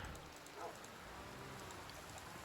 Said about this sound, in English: But since it's raining out, I'm not doing too badly.